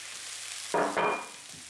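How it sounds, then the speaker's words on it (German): Onions and spring onions in a frying pan hiss in two short, close bursts of sizzle as the spring onions go in, then settle to a quieter background. "die Zwiebeln fangen jetzt langsam an Farbe zu nehmen. Jetzt gebe ich unseren Frühlingslauf dazu."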